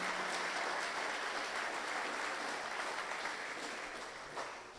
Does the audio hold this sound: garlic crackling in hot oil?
no